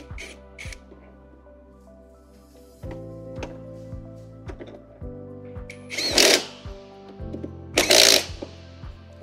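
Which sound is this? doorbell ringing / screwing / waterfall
screwing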